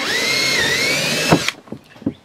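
A power drill whines at high speed through a honeycomb plastic panel inside a vehicle for over a second, then stops, followed by a few short clunks and taps.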